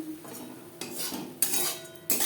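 Lightly fried prawns are lifted from the pan into a container with a metal utensil, making three or four quick scraping clinks against cookware, close, with a faint sizzle between.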